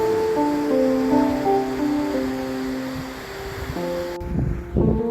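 Storm-driven sea waves at a seaside boulevard by a beach resort during a typhoon, a steady roar of surf and wind buffeting the microphone, with faint tonal sounds underneath.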